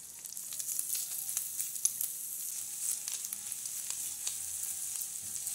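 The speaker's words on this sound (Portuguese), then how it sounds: "Aqui também eu vou colocar o alho, para já dar uma fritadinha." Garlic sizzling in a pan with already-fried bacon and calabresa sausage, a steady, close crackling fry with small pops throughout and no talking.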